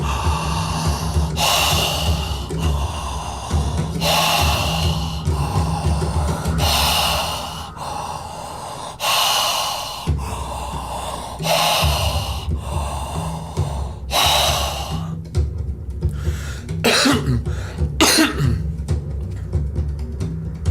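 Someone does a rapid, forceful breathing exercise, pumping the breath from the belly in loud, close, rhythmic bursts of sharp exhales with snorting edges. The bursts come in a regular run, then turn quicker and more uneven near the end.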